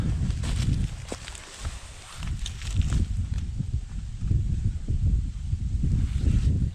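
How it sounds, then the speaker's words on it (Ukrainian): Gusty wind rushes and roars through forest trees, growing stronger, with rustling and occasional light crackles nearby. "Вітер все сильніше і сильніше."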